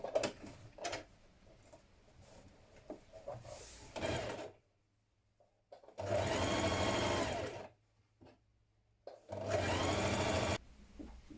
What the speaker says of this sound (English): Now hem the bottom of your trousers. I'm going to do a double fold on mine.